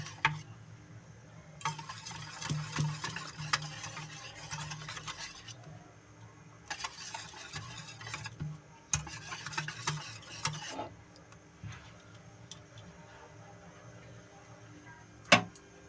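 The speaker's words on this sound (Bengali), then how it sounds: "দেখো সুন্দর করে গুলে নিচ্ছি" Rice flour batter for chita pitha being mixed by hand, with three long stretches of rhythmic swishing and rubbing in a bowl, soft and fairly close, separated by quiet pauses.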